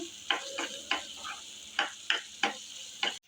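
A spoon scrapes and taps against a pan in a series of short, sharp strokes, stirring ginger garlic paste over a faint, steady sizzle.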